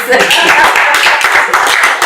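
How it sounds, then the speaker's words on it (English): An audience claps loudly and steadily in a dense wash of hand claps, with voices talking over it throughout. "Clap for me, please."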